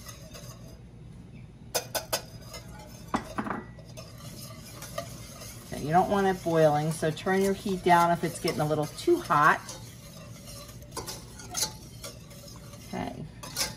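A spoon stirs paprika, garlic powder, black pepper and kosher salt into buffalo chicken pasta in a cooking pot, making a run of quick, close scraping and swishing strokes with a soft sizzle, while someone talks before and during the stirring.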